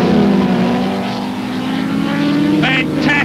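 A Ford Escort Mexico and a Vauxhall Firenza race at Lydden Hill in 1971, saloon car engines droning loud and steady with a rising whine near the end, under a commentator's voice.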